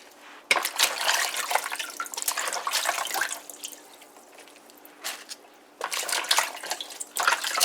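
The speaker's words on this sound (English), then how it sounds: "So we're gonna wash out our poi bhaji." Poi bhaji leaves being rinsed in a kitchen sink, with bursts of running tap water splashing and dripping, pausing briefly midway and then starting again, fairly close and with no voices.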